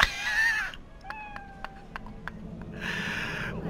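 A cat in the video game Cyberpunk meows in a few short, clear, close calls, with brief bursts of other game sound at the start and end.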